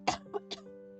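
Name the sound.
cough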